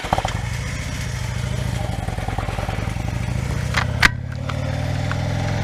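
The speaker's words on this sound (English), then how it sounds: "pop a wheelie" A motorcycle engine runs nearby with a steady, throbbing drone that holds at a constant level, marked by a brief clattering knock partway through.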